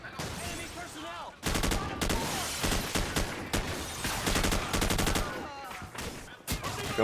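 Rapid automatic gunfire in the Call of Duty 4 campaign, loud bursts of close shots in several long volleys broken by brief pauses, with voices calling out between them.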